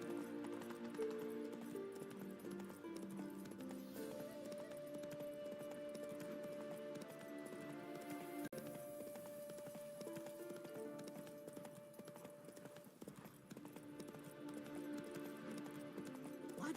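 The horse Roach's hooves clop steadily along in the video game The Witcher 3: Wild Hunt, a continuous rhythmic clip-clop of a moving horse under a sustained orchestral music bed.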